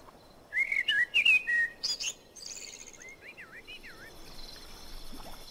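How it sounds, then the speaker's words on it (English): Temperate forest ambience from the fantasy strategy game Age of Wonders 3: several bright whistled bird calls and chirps in quick bursts, followed by sweeping warbling notes over a soft, steady background of insects and air. "The sound of the temperate forests."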